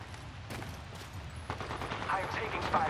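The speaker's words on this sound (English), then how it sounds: "I am taking fire. Getting shot at." Gunfire in the battle royale game Apex Legends cracks in a few separate sharp shots, then builds into busier firing amid game noise and a low rumble.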